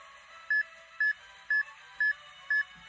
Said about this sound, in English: When the timer ends, there will be 6 more beeps